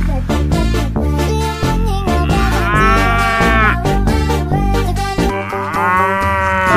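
Cattle mooing in long, drawn-out, pitched calls, several overlapping moos sounding loud and close with a sustained, almost musical tone and no voices.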